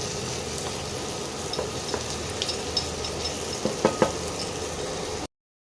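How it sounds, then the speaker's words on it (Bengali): Onion and tomato fry in a pan on an induction cooker with a steady close sizzle, occasional scrapes and taps of stirring, then sudden silence at the end. "শুধু ভাজতে হবে একটু ভালো করে।"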